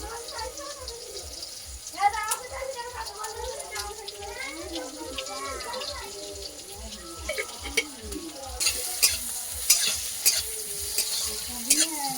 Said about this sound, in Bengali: একটু রসুন দিয়ে দিয়েছি এবারে পেঁয়াজ কুচি দেব